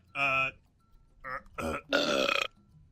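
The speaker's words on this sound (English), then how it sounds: "I don't know if that's actually you burping or a soundbite" A series of loud, close burps, one long and then three more in quick succession, the last drawn out and rattling, with no other sound between them.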